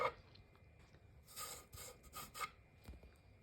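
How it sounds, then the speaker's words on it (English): Sandpaper rubs over a wooden chopping board in a few short, soft rasping strokes, faint and close, with a light knock at the start. "I'll put a bit of sandpaper on the end of this to get in here"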